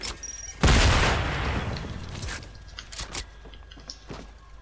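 A shotgun blast in Fortnite, one loud booming shot that rings out and decays over about a second, followed by softer game clicks and mechanical knocks.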